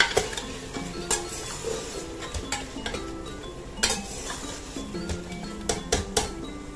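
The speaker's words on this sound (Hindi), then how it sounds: "अब हम इसको तेज आंच पे थोड़ा सा भून लेते हैं।" Mutton mince is stir-fried on high heat in a pan, with a spatula repeatedly scraping and clinking against the metal over a low continuous sizzle, loud and close.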